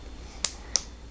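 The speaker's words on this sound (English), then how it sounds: "You're clapping!" A baby clapping hands, two soft separate claps about a third of a second apart, close by in a quiet room.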